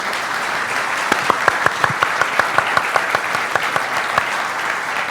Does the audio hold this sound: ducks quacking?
no